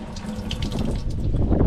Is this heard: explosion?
no